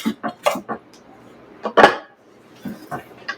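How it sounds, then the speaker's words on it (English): A knife chops walnuts on a board in a summer picnic kitchen, giving a handful of crisp, close, irregular knocks with a brief louder burst in the middle and a few more cuts at the end. "I'm going to chop up some walnuts"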